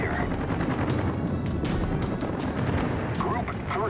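Naval gunfire in World of Warships: a dense, loud, continuous barrage of booming cannon shots and sharp cracks rolling over a deep rumble for the whole stretch.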